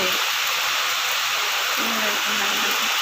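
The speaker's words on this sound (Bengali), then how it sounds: "এদিকে বাইরে বৃষ্টি হচ্ছে" Steady rain falls outside a house that is being painted, a constant broadband hiss like rain on surfaces, with a faint voice talking briefly near the end.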